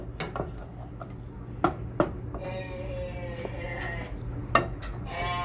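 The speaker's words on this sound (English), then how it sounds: "I'm going to go ahead and give that a stir." Butter and a couple of lemon slices stirred in a pan for blackened tilapia dinner prep, with several clinking utensil knocks against the pan over a steady low kitchen hum, close and fairly quiet.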